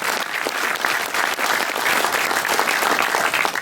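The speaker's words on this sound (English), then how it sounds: "I would like to give the Secretary one more round of applause" An audience at a Navy award ceremony gives the Secretary a round of applause: dense, steady clapping from a large crowd that fills the whole stretch at an even, loud level.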